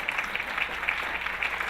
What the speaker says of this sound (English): Can we just get a round of applause for the seating?